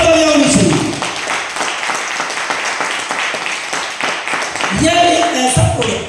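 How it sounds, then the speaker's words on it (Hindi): Audience applause for an Immunolife product presentation: a steady burst of crowd clapping, framed by a presenter's amplified voice before and after. "मैं चाहता हूं एक बार इम्यूनोलाइफ के लिए शानदार तालियां होनी चाहिए"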